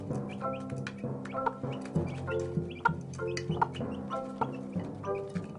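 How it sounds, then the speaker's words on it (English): A hen calls to her chicks with repeated soft, rhythmic clucks, close and clear, mixed with occasional higher chick peeps. "She carries on calling and pecking"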